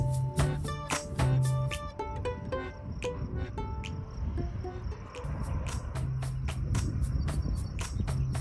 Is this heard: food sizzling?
no